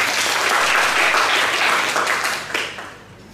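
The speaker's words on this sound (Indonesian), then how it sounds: "Beri tepuk tangan dulu." An audience at a midwifery expert lecture claps for a speaker: a steady, full burst of crowd applause that tapers off quickly in the final second.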